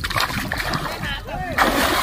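Water splashes and sloshes as people bathe in a village swimming pool outdoors, with bursts of splashing up close and voices talking over it throughout.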